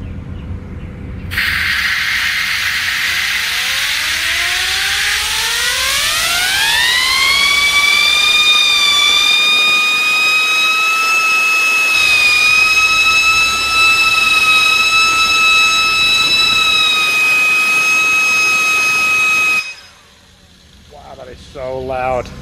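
A turbine wheel on a test rig spinning up to maximum RPM: a loud whine rises steeply in pitch, then holds a piercing steady tone for many seconds before cutting off, with faint talk afterward.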